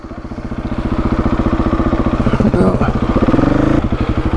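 A Husqvarna 701 Enduro motorcycle with a 72-horsepower engine pulls away slowly from the bite point. The engine thuds loud and close, in a steady, pulsing beat that rises gently as it moves off.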